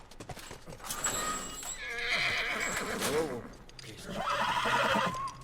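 A horse in The Last of Us video game whinnies loudly and its hooves clop during gameplay, with game sound effects around it and people talking over it.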